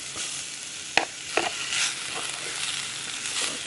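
Baby jackfruit curry stirred gently in a pan over a soft continuous sizzle, with two sharp spoon knocks early on and light scraping after, close and moderately quiet, no voices.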